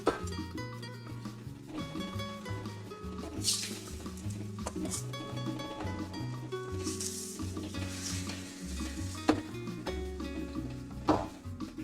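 Korean beef stir fry sears in a new wok, a continuous close sizzle and crackle punctuated by the clinks and scrapes of a utensil stirring against the pan.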